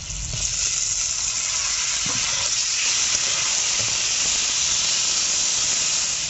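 Tomato and green chilli hit hot onions in a pan, giving off a loud, unbroken steamy hiss and sizzle that holds evenly from start to finish with no voices.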